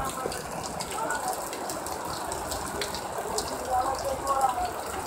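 Steady splashing and trickling rainwater runs throughout at a market in Karachi, a continuous wet patter like rain running off a roof, fairly distant with no clear voices.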